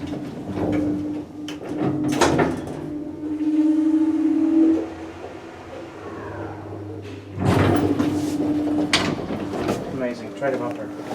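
A 1991 KONE M traction elevator at Ullevaal stadion in Oslo runs with a tonal motor hum that rises and holds, alongside clunks and sliding door mechanism sounds, with people talking nearby.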